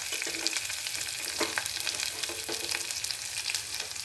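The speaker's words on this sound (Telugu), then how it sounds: "క్యారెట్ తురుము తొందరగా వేగిపోతుంది కదండి" Grated carrot fries with curry leaves in a pan, giving a dense, continuous sizzle with scattered crackles and occasional stirring sounds up close.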